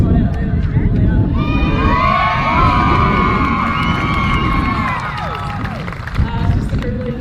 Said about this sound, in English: Thanks for the cheering squad out there.